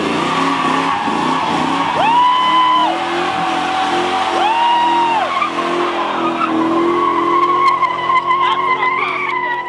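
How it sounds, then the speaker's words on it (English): Modified cars at a car gathering do tire burnouts, loud squealing tires rising and falling in pitch over a roaring engine drone, with repeated screeches and continuous crowd-like ambient noise. "you'll have car after car doing burnouts until they run out of rubber"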